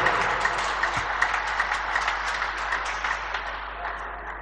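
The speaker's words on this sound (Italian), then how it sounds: "Un applauso" Applause from the audience at an award ceremony for a national junior cycling race in Campli, a steady, dense round of clapping heard fairly close, without speech.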